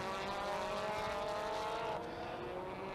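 WTCC touring race cars on the formation lap in Argentina, 2017 World Touring Car Championship round 12, engines droning loudly and steadily with a tonal whine that shifts slightly as the cars pass, no voices heard.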